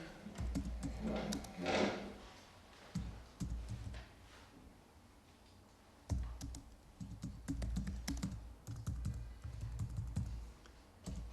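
Fingers type on a French computer keyboard in irregular bursts of close, crisp key clicks, separated by short pauses.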